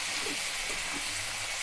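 Tomato pieces, capsicum and onion sizzle in a hot pan, a steady close hiss of frying with faint soft crackles and stirring underneath.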